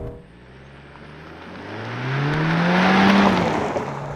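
A 2022 Mercedes-Benz C300 launches at full throttle with traction control off, its engine note rising steadily in pitch and growing louder through the revs, a strong, close acceleration with no talk.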